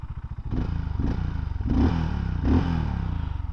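BSA 650 Scrambler motorcycle engine revving close by, a throaty low grunt with several blips of the throttle rising and falling over a steady idle.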